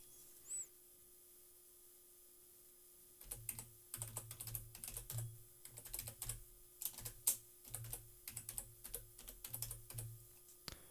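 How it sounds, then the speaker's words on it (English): Someone types an admin email address on a computer keyboard during a WordPress online store setup: quiet at first, then a close, steady run of quick key clicks in bursts over a faint hum. "you're going to type in your admin email"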